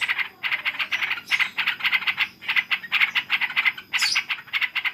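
A sooty-headed bulbul gives rapid, harsh, rattling alarm calls near its eggs in repeated bursts, loud and close, continuing insistently with brief gaps between volleys.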